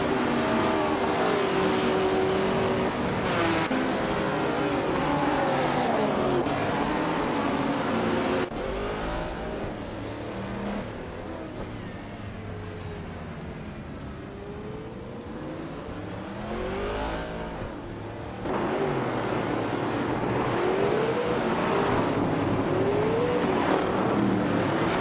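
Race cars in a video game roar continuously, engines revving and shifting pitch as they rise and fall, with a steady loud drone and occasional tire squeal but no talking.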